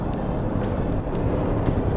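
Chevrolet Tahoe V8 engine, the same as in the Cadillac Escalade, roaring steadily as the accelerator is pressed hard at about 90 km/h, a loud continuous drone mixed with road and wind noise from inside the cabin.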